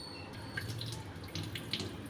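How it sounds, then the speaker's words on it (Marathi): Fresh water is poured over washed poha (flattened rice) and drained off, making a soft, close trickle with scattered drips, quiet and steady with no talk. "आता एका चांगल्या पाण्याने डबल एकदा पाणी टाकून त्याचं पाणी पूर्ण काढून घ्यायचं"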